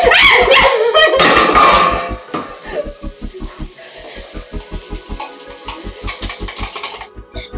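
A dog barks in a home where Maggi is being cooked. A loud burst opens the clip, then a long run of short, evenly spaced barks or yips follows at close range.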